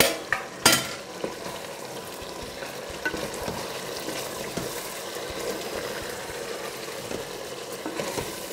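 Country chicken frying in a pan, a soft steady sizzle with occasional scrapes and clacks of stirring, a sharper knock near the start, moderate and close.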